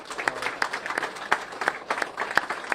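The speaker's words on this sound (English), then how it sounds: "So we'd just like a final round of applause for our staff." Applause for Humane Society staff at a live announcement, a modest round of clapping from a small group with distinct individual claps standing out, moderately near.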